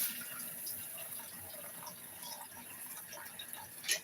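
Water pours steadily into a pot holding 1 1/3 cups of rice, with 2 cups of water added. It is a soft, continuous close-up splash and trickle, with no talking.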